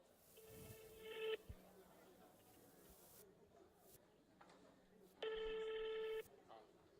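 Telephone ringing over a speakerphone at a conference, two separate electronic ring bursts about four seconds apart with quiet room noise between.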